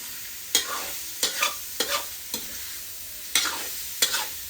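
Straw mushrooms stir-frying in oil, with six or so sharp bursts of spatula scraping and tossing over a faint background sizzle, close by and without talk.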